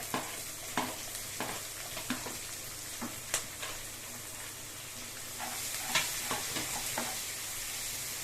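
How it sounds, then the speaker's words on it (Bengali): Chopped onion fries in oil in a pan, a steady soft sizzle broken by regular scraping and clinking as a spoon stirs it, close and moderate in level with no talking. "এবার আমি পেঁয়াজ কুচিটা দিয়ে দেবো।"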